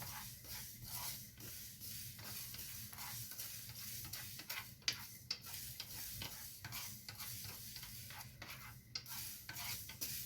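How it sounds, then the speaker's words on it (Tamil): Mustard seeds dry-roasting in an empty pan with no oil, giving a steady close crackling, rustling sizzle with scattered sharp pops and stirring scrapes throughout, no voices. "வெறுமனே வெறும் சட்டியில் தான் வறுக்கணும் இதுக்கு எண்ணெயெல்லாம் தேவையில்லை"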